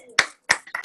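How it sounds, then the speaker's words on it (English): Four sharp hand claps ring out at an uneven pace from an online meditation group, close and fairly loud, with no voices. "give yourself a round of applause"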